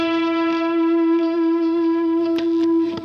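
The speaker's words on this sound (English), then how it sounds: "Let me throw some delays back on." An electric guitar holds a sustained, distorted note with a delay effect, part of a worship song's bridge, with a few soft picked accents over the ringing tone.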